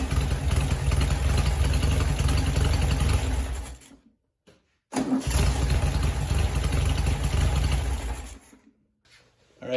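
Air-cooled VW Beetle engine fitted with EMPI dual 34mm EPC carburetors, starting and running at a loud steady idle nearby, cutting out briefly, restarting with a burst, then idling again before dying away.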